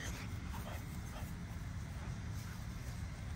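French bulldogs scuffling, with low growls and rumbling yips running under steady background noise throughout, moderately close but muffled.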